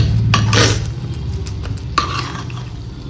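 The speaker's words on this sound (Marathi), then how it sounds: "थोडं पाणी टाकून मॅश करून घ्यायचं गरम पाणी टाकून" Wheat is mashed with hot water in a metal pot for kheer, producing wet stirring and squelching punctuated by a few sharp clinks of a utensil against the pot.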